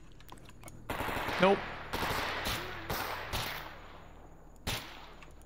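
Gunfire in the video game STALKER: several separate sharp shots spaced about a second apart, loud and close, with a short spoken word over one of them.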